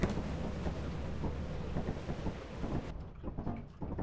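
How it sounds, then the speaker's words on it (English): Gusty wind roaring through the Lethal Company video game, a broad loud whooshing rush that holds steady for about three seconds, then drops away abruptly into quieter, sparser buffeting. "It got like really windy there for a second."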